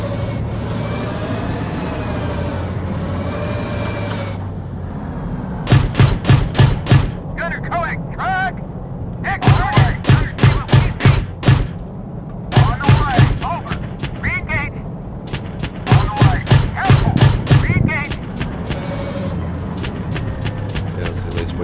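Tank guns firing in the armored combat game GHPC: repeated loud bursts of rapid shots in several separate volleys, set over a steady engine rumble that runs through the whole stretch.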